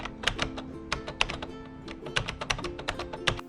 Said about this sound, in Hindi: मैं यहाँ अपना OTP इसमें एंटर कर रहा हूँ।